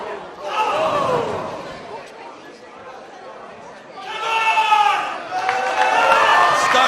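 Arena crowd at a singles wrestling match roaring and chattering throughout, dipping briefly in the middle before surging into louder swells of shouting and cheering near the end.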